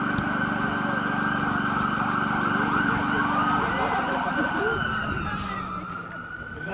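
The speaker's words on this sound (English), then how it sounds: "So as you can hear now, all the sirens coming" Several emergency vehicle sirens wail continuously and loudly as responders approach a staged high school mock crash scene, with a voice talking over them and the sirens easing slightly near the end.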